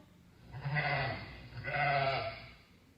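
Two drawn-out sheep bleats, one after the other with a short gap, fairly close and clear with no talking.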